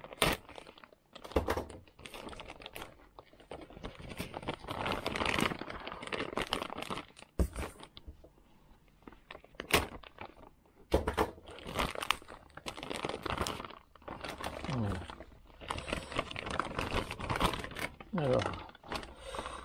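Plastic packaging for a set of Pro-Line wedge RC car tires crinkles and tears close by in bursts, with rustling handling noises and pauses of quiet between them.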